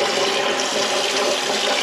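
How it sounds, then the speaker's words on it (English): Perch fillets rinsed under a running tap give a loud, continuous splashing gush of water, steady and close, with no voices. "I just keep rinsing them until the water runs clear."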